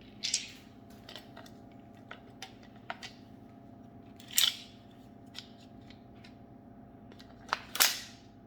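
A T8.1 CO2 air gun fitted with a 16-inch barrel fires a few sharp, close shots amid quieter clicks and handling taps, separated by short pauses in a quiet room.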